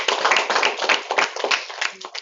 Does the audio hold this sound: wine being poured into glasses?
no